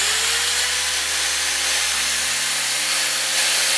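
Pro Craft electric nibbler shears run with a steady high-pitched whine and hiss, the motor hum dropping in pitch partway through as they wind down.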